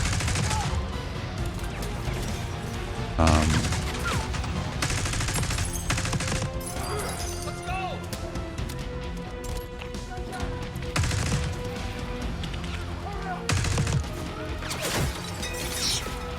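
Video game gunfire with hit marker effects: dense, continuous rapid shots and thumping impacts over music and mechanical clatter, loud and busy throughout, with occasional heavier crashes.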